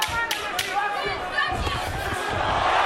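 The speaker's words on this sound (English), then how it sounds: "Crowd oohing and eyeing for the Bradley right hand" Boxing arena crowd at a Bradley vs Vargas fight oohing and murmuring in reaction to a right hand, a loud sustained roar with scattered thuds and chatter.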